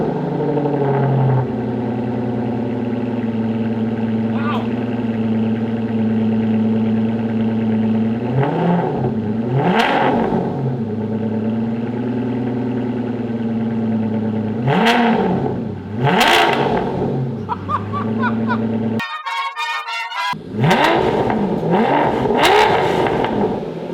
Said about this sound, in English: I really want to turn this on and just hear what a new cold start sounds like.